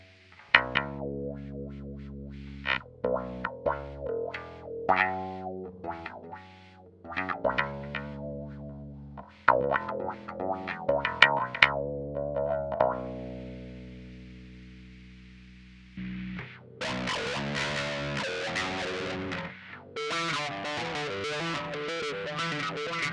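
Bass guitar run through a wah pedal on a Line 6 POD HD500x, placed right after the compressor, with distorted, effects-laden notes that sweep in tone, a long decaying note midway, then denser, brighter playing to the end.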